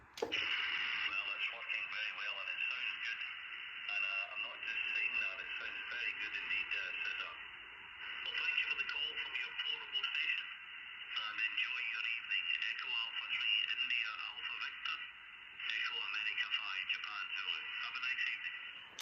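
A PRC320 military radio, over 40 years old and modified for lower sideband, receives an LSB transmission: band-limited, crackly voice audio with static, arriving in long bursts with brief gaps between transmissions.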